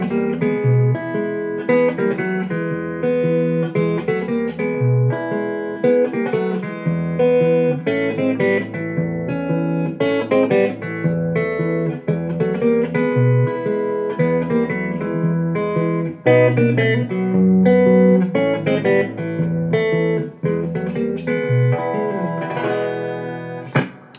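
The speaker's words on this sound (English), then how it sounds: "So this is really just a basic 12-bar in E." Electric guitar plays a steady 12-bar blues shuffle in E, a repeating chord pattern with bright single-note fills, continuous and fairly loud with no talking.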